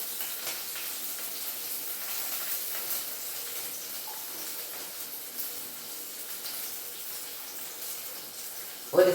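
Curry leaves crackle in hot oil as a steady, even sizzle holds through the whole stretch, ending in a brief sharper spatter right at the close.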